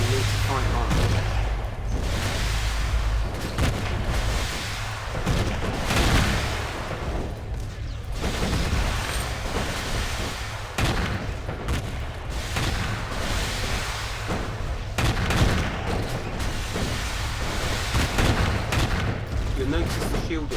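Ship weapons in the video game Stellar Tactics fire steadily at an enemy vessel, a long dense series of repeated blasts and booms with a voice talking over them.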